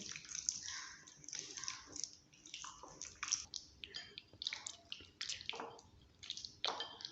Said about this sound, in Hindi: अब हम इनको हाथों के साथ मिक्स कर लेंगे ताकि मसाला गोश्त के अंदर तक जज़ब हो जाए।